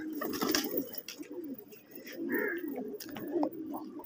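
Around 200 pigeons coo softly and repeatedly nearby, several birds overlapping in low, throaty murmurs, with occasional faint chirps in the background.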